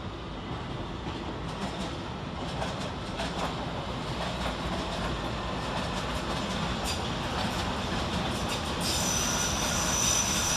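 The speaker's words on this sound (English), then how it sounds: "coming in the opposite direction, S-Stock units 21419 and 21420 with a Hammersmith and City Line service from Hammersmith to Barking." A London Underground S-Stock train on a Hammersmith and City Line service rumbles steadily through Paddington station, with wheel squeal and rail noise building slightly toward the end.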